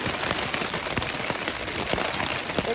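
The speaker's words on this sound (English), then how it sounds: "all of a sudden it just started downpouring and I couldn't get my door closed or my tarp" Heavy rain pounds a tent at night in a sudden downpour on a thunderstorm night, a dense, loud, continuous patter of drops drumming close on the fabric with no pauses.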